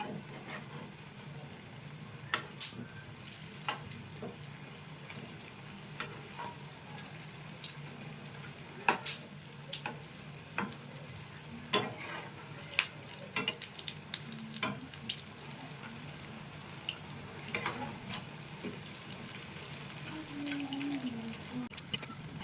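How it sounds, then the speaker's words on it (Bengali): Suji and raw potato snack frying in hot oil, a soft steady sizzle with scattered crackles and pops throughout, fairly quiet and close, no talking. "এবারকে আমি 5 মিনিট মতো ভেজে নিয়েছি, এবার তুলে নেব।"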